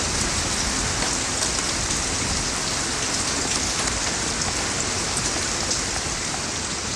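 Heavy rain pours steadily in a dense, even hiss of countless drops striking surfaces, constant and fairly loud, with no voices.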